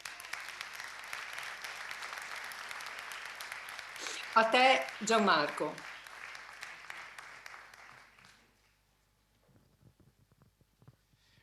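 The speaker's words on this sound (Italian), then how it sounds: "a voi tutti questa sera vorrei fare un applauso" An audience at an evening talk gives sustained applause, a steady hiss of clapping, while someone speaks briefly over it; the clapping thins out and stops, leaving near silence.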